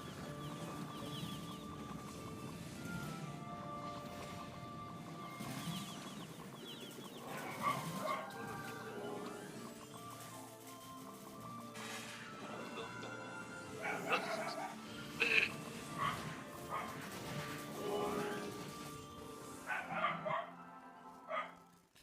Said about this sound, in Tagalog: Parang nananadya yung ano yung aso.